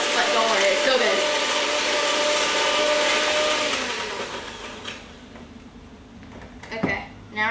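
An electric mixer whirs steadily through brownie batter in a bowl, loud and continuous for several seconds, then cuts out, leaving faint clinks and a voice nearby.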